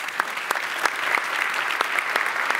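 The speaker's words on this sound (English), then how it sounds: "Give a round of applause for Sean Alpe." Audience applause at a FinOps conference keynote, a steady wash of clapping from a large crowd with scattered sharper claps, lasting the whole moment without speech.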